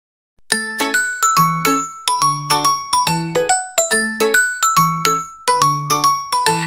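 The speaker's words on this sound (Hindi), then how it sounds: "वाला आया रे, बजा बजा के घंटी लाया रे, ट्रिन ट्रिन ट्रिन सुनो जरा" Repeated bright chiming bell tones, ice cream vendor's bell in a children's rhyme, ringing in steady musical bursts, loud and close throughout with no talking.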